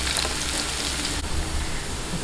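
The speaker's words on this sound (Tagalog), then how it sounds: "Ngayon, maggisa na po tayo. Ito natin ang bawang." Garlic sautéing in a pan for bangus binagoongan, a steady, close hiss of broadband sizzle that runs without a break and without talk.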